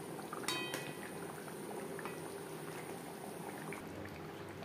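Silver carp curry gravy with fried fish pieces simmers in a pan, a continuous soft bubbling and burbling that stays even throughout, quiet and without speech.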